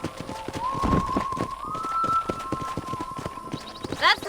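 Horse hooves clip-clopping at a steady gallop in the Western video game Red Dead Redemption, a continuous rhythmic beat of close, moderately loud footfalls with a brief voice at the end.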